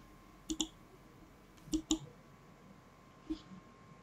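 A computer mouse gives a few sharp clicks, some in quick pairs, in a quiet room with a faint hum and no talking.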